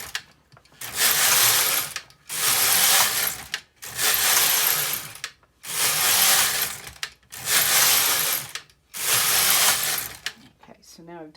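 An LK 150 or KX 350 knitting machine carriage is pushed across the bed knitting rows of waste yarn, six evenly spaced rasping, clattering passes, each about a second and a half long with short pauses between them.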